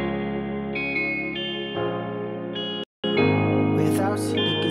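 Synth pad for an EDM-style beat, sustained chord tones shifting every second or so with a chorus-like shimmer, a brief dropout near the end, then bright textures on top, loud and without voices.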